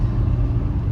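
Steady low road rumble and engine drone heard from inside a ute while driving, loud and continuous, with no talking.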